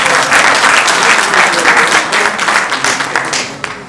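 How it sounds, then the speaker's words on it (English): Sustained applause from an audience at a political victory gala dinner in South Africa, dense loud clapping that holds steady and tapers slightly toward the end. "Thank you very much for that awesome clap"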